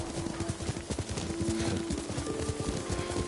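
Horse hooves clip-clop steadily during a ride, a dense rhythmic patter under a low musical drone, with no talking.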